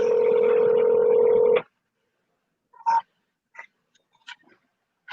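A telephone call begins with a steady tone that cuts off abruptly, followed by a few short, separate dialing beeps in otherwise quiet surroundings.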